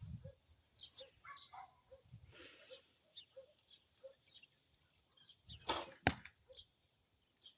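Two sharp arrow releases from a bow in quick succession near the end, preceded by soft chirps and faint outdoor ambience.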